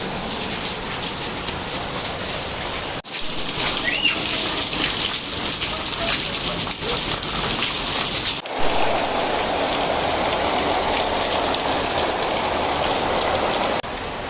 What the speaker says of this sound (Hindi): एकदम तूफानी बारिश हो रही है